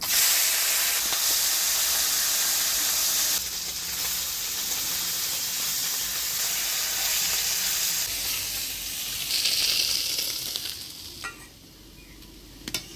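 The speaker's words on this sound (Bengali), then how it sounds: "চচ্চড়ি রান্না করার জন্য চাপলা মাছগুলো ভাজিয়ে নিব" Chapila fish frying in hot oil for a chorchori, a steady broadband sizzle that holds loud and close for most of the stretch, with a brief flare near the end before it thins out.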